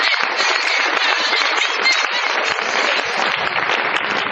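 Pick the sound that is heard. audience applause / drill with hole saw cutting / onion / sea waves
audience applause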